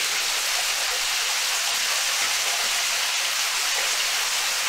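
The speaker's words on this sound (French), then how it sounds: "Et il y a surtout cette cascade." An underground waterfall in a river beneath a city pours as a continuous dense roar, steady and fairly loud with no breaks, enveloping everything without any voices.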